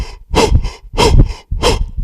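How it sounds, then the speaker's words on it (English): Three loud, deliberate breaths in and out through the mouth during a breathing exercise, each a broad airy rush lasting about half a second, separated by short pauses, close up with no talking. "you just move up and down, breathing in and out through your mouth"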